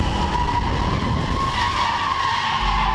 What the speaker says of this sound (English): Underneath the 16, Nicole in the grass.